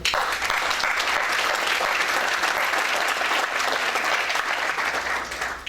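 Warm audience applause at a palm oil and soy sustainability conference, a dense, steady wash of many hands clapping at close range, sustained at even loudness for several seconds without talk.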